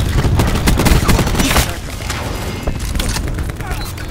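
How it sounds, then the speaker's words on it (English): A cluster grenade detonates in Call of Duty: Black Ops 4, a loud burst of booming, rattling blasts that starts strong and settles into a dense, continuous rumble of gunfire and explosions, with game voice lines over it. "Cluster grenade going out."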